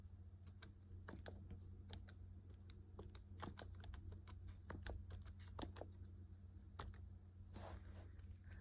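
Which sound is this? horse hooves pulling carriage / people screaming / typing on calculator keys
typing on calculator keys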